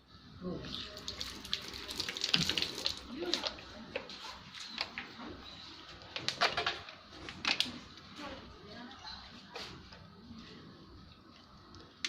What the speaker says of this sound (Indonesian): Cuci tangan dengan air yang bersih dan sabun